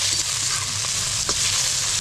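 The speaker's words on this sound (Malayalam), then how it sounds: "നന്നായിട്ടൊന്ന് വഴണം" Green chillies and tomato sautéing in a pan for a kanambu fish curry, a close, steady sizzle with a couple of soft scraping stirs.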